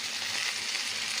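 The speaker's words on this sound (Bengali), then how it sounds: "আলুর সাথে পটল একসাথে ভাজতে থাকলাম" Potatoes and pointed gourd sizzle together in a home kitchen pan, a steady close hiss of frying oil with no pauses, alone and without voices.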